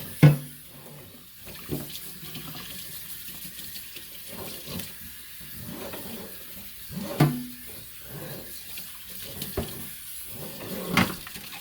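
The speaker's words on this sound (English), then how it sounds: "you want to just rinse it with some hot water" Hot tap water runs into a kitchen sink while raw chicken is rinsed during cleaning with salt, lime and vinegar. The flow is a quiet, uneven stream broken by splashes, clunks and handling knocks, with no talking.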